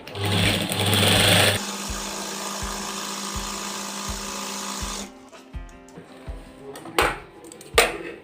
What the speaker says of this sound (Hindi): सबसे पहले मैं इसकी स्टेन की सिलाई लगाऊँ।